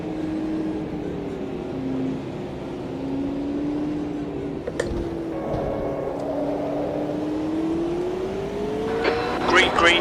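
Race cars roll off the start at Laguna Seca in Automobilista 2, engine drone sweeping up and down in pitch through a steady mix, with scattered clicks and talk over the top.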